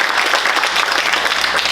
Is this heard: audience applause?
yes